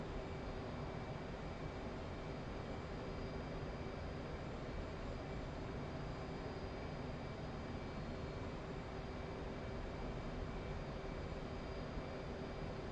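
Steady, continuous jet engine roar of an F/A-18C Hornet in level flight in DCS World, an unbroken broadband rumble with a faint tonal whine, constant loudness and no talk.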